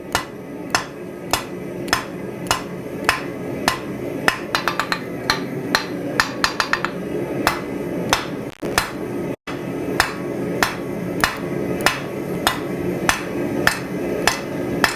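Hammer blows forge metal on a narrow anvil, striking steadily at about one per second as ringing metallic hits, with a rapid flurry of lighter taps in the middle, all close and loud over a faint workshop background, with no talk.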